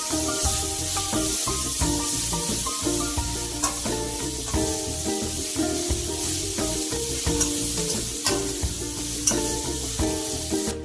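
Ground chili, ginger and garlic paste sizzles steadily in hot oil for a samosa filling, with continuous frying crackle and occasional stirring scrapes, close and fairly loud, no voices.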